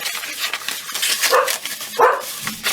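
A dog barks a couple of times, muffled and somewhat distant, amid background noise.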